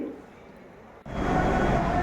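A train at Shalimar railway station, India: quiet platform ambience gives way about halfway through to a loud, steady broadband rumble of the train close by.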